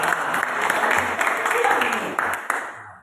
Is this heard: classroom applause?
yes